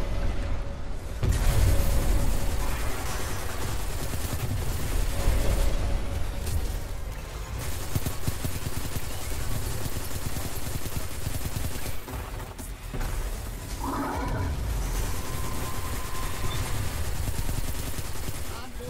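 Sustained gunfire and blasts rumble through a Destiny 2 Gambit match, with dense continuous shooting and booms under a busy game mix, and a voice talking over parts of it.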